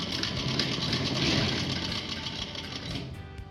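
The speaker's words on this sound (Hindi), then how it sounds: "हम इस आगे की पट्टी को भी यहाँ से यहाँ तक सिल देंगे" An electric sewing machine runs steadily while stitching the front strip of a printed palazzo, a continuous close whirring hum that holds for several seconds and eases slightly near the end.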